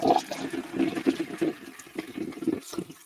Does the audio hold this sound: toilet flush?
yes